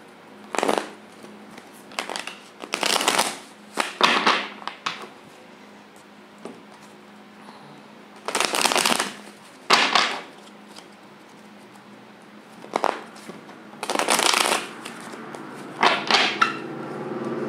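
Tarot cards are shuffled and spread in a series of short, crisp bursts of riffling and sliding, close and fairly quiet, separated by brief pauses.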